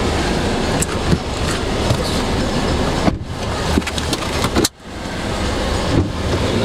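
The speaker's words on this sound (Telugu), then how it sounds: "వాళ్ళు టెస్ట్ డ్రైవ్ చేస్తున్నాడు" Car on a test drive track at a second-hand car dealership in Hyderabad, a steady rolling road and engine rumble with brief dips, heard from inside the vehicle without talk.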